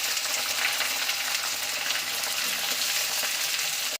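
Onions and green chillies sizzle loudly in hot oil after mustard seeds pop, cooking for a South Indian potato fry, with a dense, steady frying hiss and no voices.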